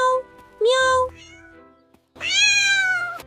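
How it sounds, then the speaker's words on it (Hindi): A small cat stuck up a tree meows in short, high, plaintive cries, a few brief calls followed by a longer, louder meow, close and clear with no other sound. "वहां एक छोटी सी बिल्ली फंसी हुई थी।"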